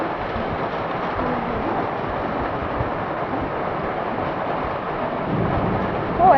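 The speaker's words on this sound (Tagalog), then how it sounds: "Oh, pati po kulog ay malakas, nakakatakot po." Heavy rain pours steadily on a rural Philippine farmyard with livestock pens, a broad continuous roar with low rumbling thunder swelling beneath it and growing louder near the end.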